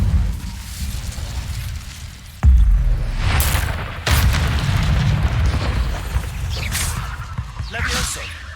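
Loud fiery blasts from the Incendio spell in Hogwarts Legacy, two heavy booming bursts with a whooshing tail, over steady game ambience, with fainter crackling later.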